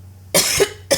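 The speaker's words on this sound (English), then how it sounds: "Every time this guidance comes up, something gets in my throat when I cough." Two close, loud coughs from a person, a harsh burst followed by a shorter second one after a brief pause.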